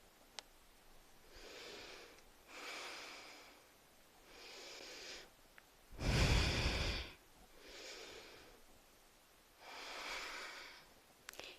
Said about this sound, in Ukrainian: Довгий вдих, довгий видих.